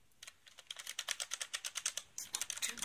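Fast, steady typing on a QPAD MK 50 mechanical keyboard: a rapid run of about twenty crisp, clacky keystrokes, close to the microphone, with a brief pause before a few more keys.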